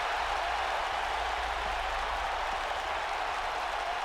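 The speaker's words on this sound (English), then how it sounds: "And this crowd enjoying the action that is unfolding right between their eyes, and Jon Moxley" Crowd in a WWE 2K wrestling video game applauds and cheers in a steady, dense roar that fills the whole stretch without pause.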